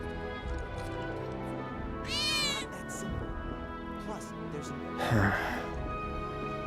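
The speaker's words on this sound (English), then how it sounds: "I think one of Betty's cats might be nearby." Two cat meows from a cat belonging to Betty in Final Fantasy 7 Rebirth, each a drawn-out, rising cry spaced a few seconds apart over steady game background music and ambience.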